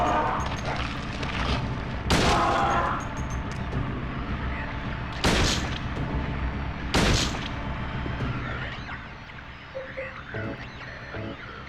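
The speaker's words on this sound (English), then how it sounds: "I am gonna use the gun." Three loud, sharp handgun shots from Silent Hill 2 on the PS2, spaced a few seconds apart, each with a short echoing tail over a low ambient drone, with no talk.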